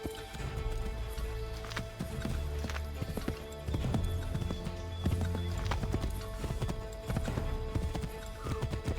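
Horse hooves clip-clop at a gallop in the Assassin's Creed 3 video game, a fast steady drumming close by with a brief neigh, set against game music.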